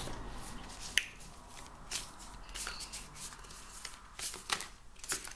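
Fallen tarot cards being picked up and gathered, with soft, scattered card slaps and shuffling clicks close by at irregular intervals, quiet and without speech.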